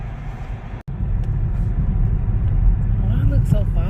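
A car driving along a snowy road during a Texas blizzard gives a steady low rumble of engine and tire noise from inside the cabin, broken by one brief dropout, with people talking over it.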